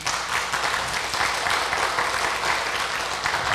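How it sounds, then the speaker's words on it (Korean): A church congregation at a worship concert gives a dense, loud burst of thankful applause that stays steady for a few seconds without speech. "감사의 박수 우리 참 부모님께 올리겠습니다."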